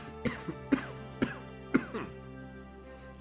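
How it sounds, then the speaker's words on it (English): A run of short, rough coughs repeats at a fairly even rhythm, close by and moderately loud, followed by a brief pause. "He coughs."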